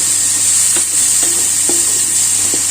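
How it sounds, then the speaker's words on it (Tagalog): Onion sautés in a pan for pork chao fan, a loud close steady sizzle with a few soft spatula scrapes as it is stirred. "Mga Team Chef Chris, magsusutay na tayo ng onion."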